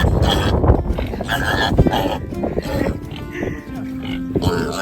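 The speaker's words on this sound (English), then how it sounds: "She heard the other pigs and went crazy." An excited homestead pig grunts and squeals in a rapid, busy burst of close, loud farmyard noise, with people talking over it.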